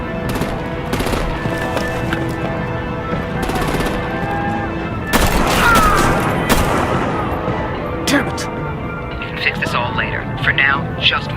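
Rapid machine-gun bursts and heavy artillery blasts rattle through a Batman video game battle, with dense repeated firing and booming impacts under loud voices.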